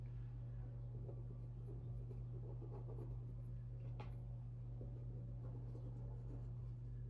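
Soft scratching of a pencil on paper for mixed-media junk journal pages, faint intermittent strokes over a steady low hum.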